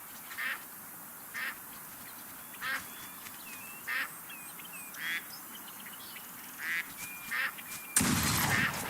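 Ducks in the duck-hunting video game Duck Dynasty give short quacking calls at regular intervals over quiet outdoor ambience, ending in a sudden loud broadband blast.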